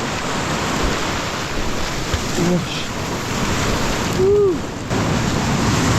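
Ocean waves wash and surge in a steady roar on a Brazilian island shore, with brief faint voices and a short whistle-like tone over the surf.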